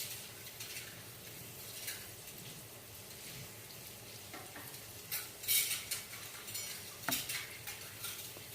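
Butter melting and being stirred in a pot as the start of a roux for baked mac and cheese, heard as a soft steady sizzle with scattered utensil scrapes and clinks that sharpen toward the end.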